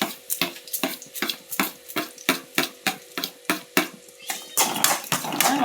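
Crushed mustard seed being stirred into mango pickle, a steady run of about a dozen regular scraping strokes of a spoon against the pot, close and fairly loud, turning into a looser rattling mix near the end.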